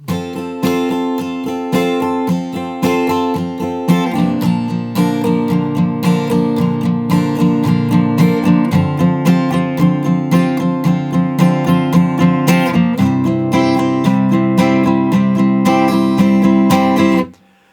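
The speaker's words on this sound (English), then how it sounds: "let's try that whole line of the verse" An acoustic guitar strums the verse chords, a full line played through with steady, accented rhythmic strokes, close and loud with no voice over it.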